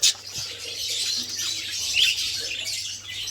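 Budgerigars chirp in a breeding aviary, a steady close chatter of bright tweets and squawks running through the whole stretch with one sharp note at the start.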